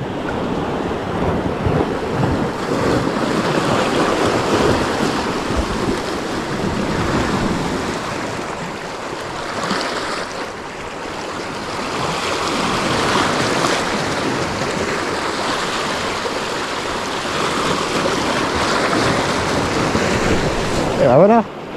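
Light sea chop and small waves off the coast of Brittany during a fishing session, a steady close wash of water and wind rumble running continuously with slight swells in loudness.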